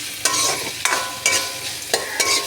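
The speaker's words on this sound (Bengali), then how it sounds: "ঠিক আছে, এবার এটা ভাজা হয়ে গেল।" Food is stir-fried in a hot pan on a home stove, giving a continuous loud sizzle broken by four or five sharp scraping strokes of a spatula at a steady rhythm, with no talking.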